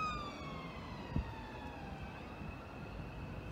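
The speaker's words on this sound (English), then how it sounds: "Okay, there's an ambulance." A faint, distant ambulance siren wails with a slowly falling pitch over low traffic rumble, fading as it passes.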